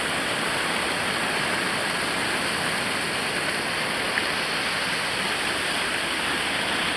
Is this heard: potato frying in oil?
no